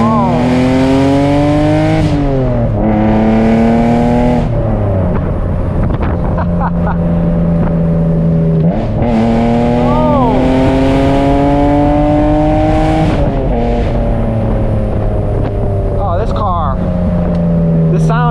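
Loud straight-piped BMW Z3M roadster with an M3 engine pulls hard through repeated gear shifts, each rising howl snapping down to a lower pitch before climbing again, heard from inside the car with wind buffeting.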